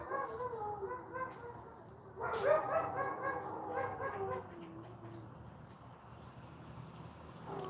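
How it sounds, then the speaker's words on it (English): Huskies howling and yipping together, a wavering chorus of pitched wails that swells loudly partway through and then fades to quieter, sustained cries, with no talk over it. "the Huskies, they're going to start howling right now"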